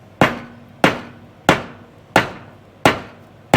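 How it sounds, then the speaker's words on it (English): A hammer strikes a bushing on a US Army M939 truck, five sharp metallic blows evenly spaced about two-thirds of a second apart, loud and close, each ringing briefly before the next. "let's just try it with the hammer"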